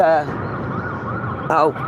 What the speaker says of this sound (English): we got an ambulance coming at us